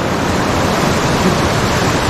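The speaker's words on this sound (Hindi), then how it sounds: "और देखो भाई कितना मस्त वाटरफॉल है ऐसा देखो" Mountain water pours down a waterfall near Takmak Fort in Virar, a loud, steady rushing roar filling the scene without pause.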